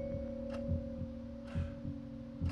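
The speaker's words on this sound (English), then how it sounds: "I hear her heart beating." A character's heartbeat thumps in the horror video game Song of Horror, soft paired beats repeating at a steady slow rhythm over a constant low electronic hum, with no talking.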